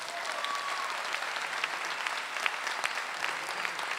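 An audience at a political rally in Rosario, Argentina, applauds in a dense, steady wash of many hands clapping, sustained and even throughout.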